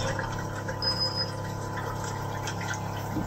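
Water ionizer still running after its water source is shut off, a steady close pump hum with a continuous trickling flow that keeps going without pause.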